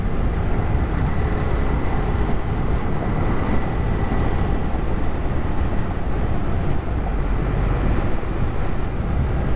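Wind rushing past while riding a Honda CB300R motorcycle in Canada, a constant loud roar and buffeting against the microphone with no break throughout.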